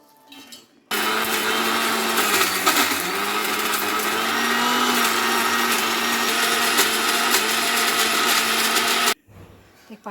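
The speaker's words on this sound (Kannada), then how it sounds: "ಈಗಿಷ್ಟು ರುಬ್ಬಬೇಕು ಇದನ್ನು." An electric mixer grinder runs hard on coconut, ginger, spices, greens and tomato with a loud, steady whirring roar. Its pitch wavers slightly as the load shifts, and it starts and stops abruptly with brief quiet either side.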